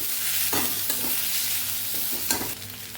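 Mashed potato mixture is stirred in a hot pan, with steady scraping strokes over a continuous sizzle, close and fairly loud with no voices.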